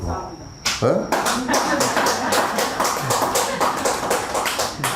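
Audience clapping at a Buddhist dharma lecture, starting abruptly after a quiet moment and continuing as dense, steady applause close by, with some voices mixed in.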